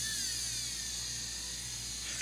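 A fine sanding band on an electric nail drill buffs fingernails during prep, a steady high-pitched whine with a slight pitch glide, close and without talk.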